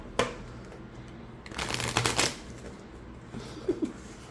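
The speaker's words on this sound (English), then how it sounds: "I can riffle shuffle it." Large oracle cards with a part-glossy, part rose-petal finish are riffle shuffled by hand. A sharp snap comes first, then a dense purring burst of flicking cards and a couple of soft taps after it. The sound is close and there is no talk.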